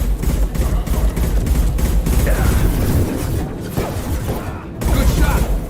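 Gunfire in the video game Mass Effect 2 during a street firefight, a dense continuous barrage of shots and booms with voices speaking over parts of it.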